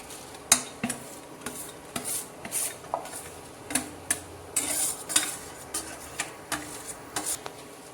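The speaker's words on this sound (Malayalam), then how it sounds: "അപ്പോൾ അതിലേക്ക് നമ്മൾ മാങ്ങ ആഡ് ചെയ്യാണ്." Raw mango pieces being tipped and stirred into spice masala in a metal pan for Malayalam-style mango pickle, giving a run of irregular scraping clinks and knocks from a spoon against the vessel, close and fairly quiet.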